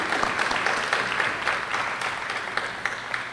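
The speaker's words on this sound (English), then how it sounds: "so if you could give her a big round of applause and thank her for today" A school awards-ceremony audience gives a big round of applause for an assistant principal, with lively, close clapping and a few sharp individual claps standing out as it gradually thins toward the end.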